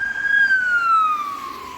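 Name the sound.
ambulance sirens passing on a road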